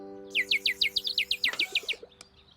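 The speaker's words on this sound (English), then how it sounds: "The little bird! It came back!" A little cartoon bird chirps in a quick run of about a dozen bright, high tweets, then a few softer lower notes trail off. The chirps are clear and moderately close, with no voices over them.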